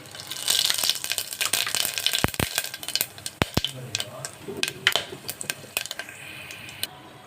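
Masala hits hot oil in a pressure cooker, sizzling and spattering with sharp clicks and scraping stirs, loud at first and then settling into a quieter frying hiss.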